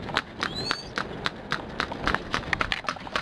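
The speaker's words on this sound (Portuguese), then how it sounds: "de cavalo, de charrete" Horse hooves clip-clop in a steady, fairly close rhythm as a horse-drawn carriage rolls through Tiradentes on New Year's Eve, with a high squeak or whistle briefly over the hoofbeats.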